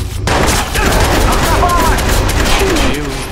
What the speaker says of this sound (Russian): Внимание, тут стрельба